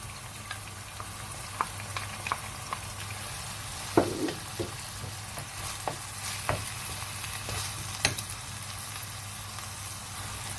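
Meat and rice mixture sizzles steadily in a pan for a gratin of rice and minced meat, with a constant frying hiss and scattered soft clicks and scrapes of stirring, close and alone with no talk.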